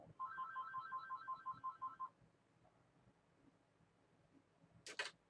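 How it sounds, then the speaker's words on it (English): A phone ringtone plays a quick repeated electronic trill, a string of about a dozen rapid beeps over two seconds, followed by quiet and a brief click near the end. "Phone, phone, phone."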